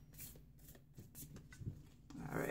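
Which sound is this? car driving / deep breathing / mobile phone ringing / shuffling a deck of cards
shuffling a deck of cards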